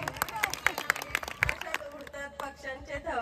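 A village festival audience claps for a woman in a quick rhythmic burst that tapers off, while a voice and crowd chatter continue over it.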